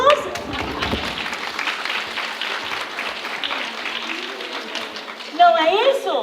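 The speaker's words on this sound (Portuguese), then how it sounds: "Palmas para Jesus." A church audience at a children's ministry gathering claps and cheers in praise, a dense, sustained wash of applause with a brief louder swell near the end and faint voices mixed in.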